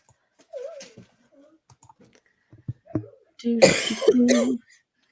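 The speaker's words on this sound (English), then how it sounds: "I'm so sorry for everyone having to hear me cough" A person coughs and clears their throat in a loud, rough burst near the end, with softer throat noises and small clicks scattered before it, close to the microphone.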